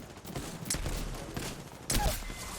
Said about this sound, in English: And now I hear my teammates start shooting